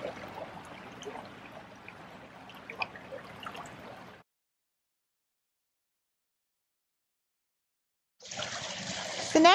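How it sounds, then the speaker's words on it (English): Water pouring and trickling into a sample bottle during stream sampling outdoors, a soft continuous liquid rush that stops abruptly partway, falls silent, then resumes louder near the end. "you will then fill up your water bottle, leaving a little bit of air space"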